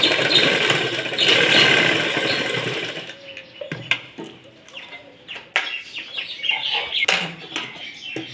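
A sewing machine whirs loudly for about three seconds, stitching two pieces of fabric piping together. It then stops, leaving scattered clicks and handling rustles with faint voice sounds.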